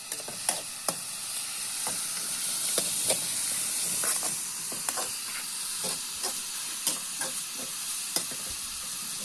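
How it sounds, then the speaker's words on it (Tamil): Ginger garlic paste sautés in a pan for a wedding-style chicken curry, giving a steady hiss and sizzle with scattered stirring clicks and scrapes throughout, moderately loud and free of talk. "ஓகே, இப்போ வேகமாக வதக்கலாம். அடுத்ததா நம்ம வந்து இஞ்சி பூண்டு பேஸ்ட் சேர்க்க போகிறோம்."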